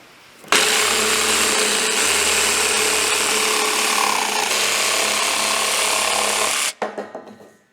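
A jigsaw cuts a round hole for a chicken feeder, giving a loud, steady buzzing rasp for about six seconds that stops abruptly, then a few rattling knocks as the blade winds down.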